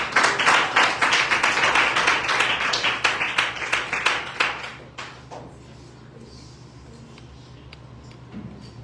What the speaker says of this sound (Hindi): आइए जोरदार तालियां पवित्र आत्मा के लिए और प्रिंस के लिए